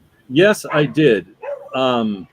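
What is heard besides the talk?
neighbors' dogs barking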